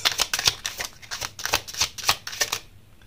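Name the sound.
playing cards being shuffled and drawn for a reading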